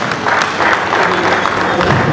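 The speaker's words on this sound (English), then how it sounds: "Let's give ourselves a round of applause." A reunion party audience gives a round of applause, loud, dense clapping from a sizable crowd that stays steady throughout, with a few voices mixed in.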